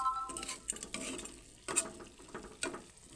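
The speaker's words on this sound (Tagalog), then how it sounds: "gusto ko matuyuan muna ng konti yung laman, yung medyo ma-fry ng konti yung balat" Chicken adobo frying in a pan gives a soft sizzle, broken by several clinks and scrapes of a utensil stirring against the pan.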